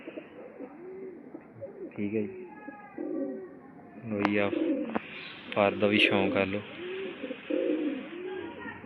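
Breeder pigeons coo repeatedly in soft, rolling bursts close by in a breeding setup, with someone talking over and between the calls.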